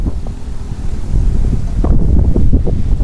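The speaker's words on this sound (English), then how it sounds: "It's really windy." Strong wind buffets a microphone outdoors in a town park, a continuous low roaring rumble with heavier gusts in the second half and no voices.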